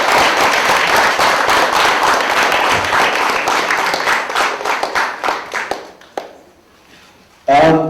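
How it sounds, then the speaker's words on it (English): A crowd applauds at a student media event, a big round of clapping that carries loudly for about six seconds before thinning to scattered claps and fading, with a short voice at the end. "Let's have a big round of applause."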